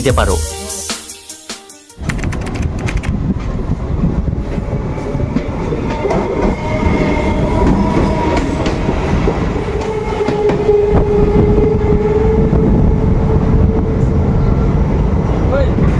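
The 13175 Kanchanjunga Express pulls out of Dakshineswar station, its low rumble and wheel clatter rising after a brief quieter moment and then rolling on steadily and close.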